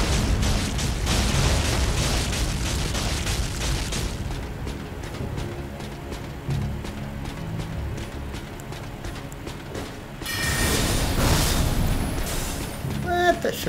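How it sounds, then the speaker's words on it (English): Fire bombs explode in Elden Ring in Leyndell, Royal Capital, giving dense, loud bursts at the start and again near the end, with clattering hoofbeats and a quieter stretch in between. "Let me get rid of these other fire bombs that I was holding on to."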